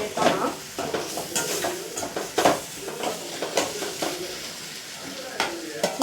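Green chili and tomato fry in a pan, a soft continuous sizzle broken by repeated scrapes and clinks of a stirring spoon against the metal, close and moderately loud.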